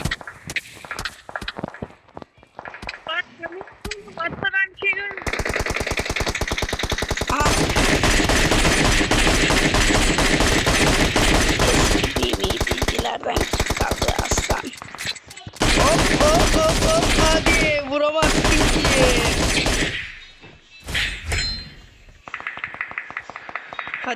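Sustained bursts of rapid automatic gunfire from PUBG Mobile gameplay, loud and close, rattling on and off for most of the stretch with brief pauses, while players talk intermittently underneath.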